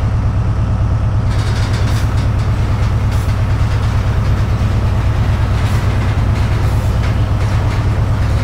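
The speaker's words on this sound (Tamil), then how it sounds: "ஏதோ பக்கத்தில் ஏதோ ட்ரெயின் சதம் கேட்குது." A loud, continuous rumbling of a train rolling past in Train Simulator 2017, with steady low clatter and rattling, no voices.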